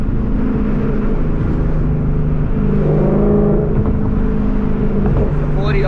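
An E85-fuelled car pulling hard, its engine and exhaust droning loudly and steadily with a rising note partway through, heard from inside the car with some talk mixed in.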